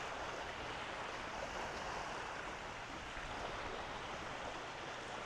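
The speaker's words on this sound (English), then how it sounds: "Side door right out onto the Missouri River here." Beside a riverside camp spot in South Dakota, the Missouri River flows with a faint, steady broadband rush that stays unchanged from start to finish, with no voices.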